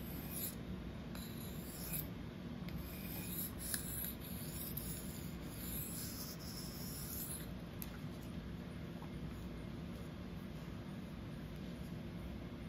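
A REX-45 super-steel knife is sharpened freehand on a 1200-grit diamond plate, a faint, continuous gritty rasping of steel strokes on the plate, close and quiet with no talking.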